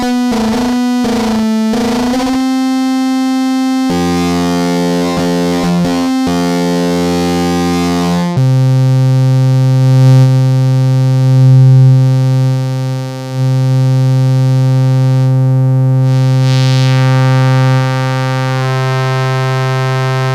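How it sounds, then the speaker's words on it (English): Sequential Rev 2 synthesizer playing a loud, sustained harsh texture of shifting drones and stuttering notes, with several abrupt changes in tone over about twenty seconds, alone without talk. "I'm gonna play a little sound from the Rev 2."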